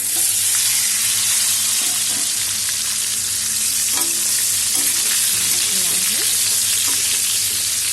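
Mango pieces, rubbed with turmeric and salt and sun-dried, fry in hot oil for a sweet-spicy mango pickle, making a loud, continuous close sizzle with faint occasional stirring knocks.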